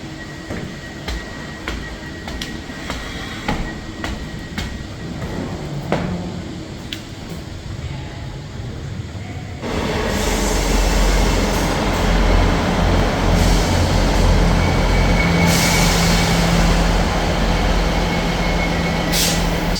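A ScotRail train at a Platform 0 in Scotland, with quieter station ambience and scattered clicks that give way to a sudden, sustained loud rumble and hiss as the train runs alongside the platform, continuous to the end.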